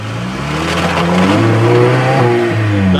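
A Lada Niva engine revs hard while the 4x4 crawls along a rough off-road track, a loud, close, steady mechanical roar with rising and falling pitch and no talk.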